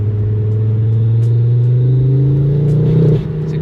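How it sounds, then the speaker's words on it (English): A five-cylinder Ford Focus RS engine revs loud and close, with a strong sustained drone that climbs steadily in pitch for about three seconds. It then drops off abruptly as the throttle closes. "The 5 cylinders are all ridiculously loud."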